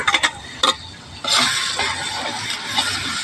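A spoon scrapes and clinks through a pot of sautéed tomato, onion and ginger garlic paste for a chicken biryani, a few sharp taps followed by a continuous wet scraping and stirring with faint sizzle.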